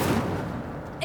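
A fire spell cast in Hogwarts Legacy, heard as a loud roaring burst of flame that fades to a sustained crackling rumble, with a brief bright flare at the end.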